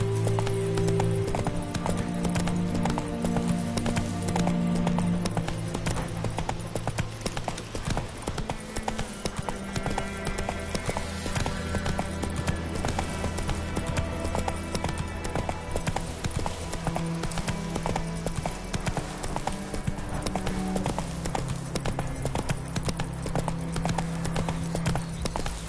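A ridden horse gallops in The Witcher 3 video game, its hooves striking in a steady, fast, close rhythm over layered game music, with a brief whinny.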